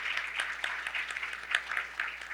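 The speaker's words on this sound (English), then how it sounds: "I think he deserves another round of applause, indeed." Audience applause at an Urban 20 mayors' summit plenary session, given for the mayor of São Paulo. A quiet, steady patter of many hands clapping, moderately distant, with no speech over it.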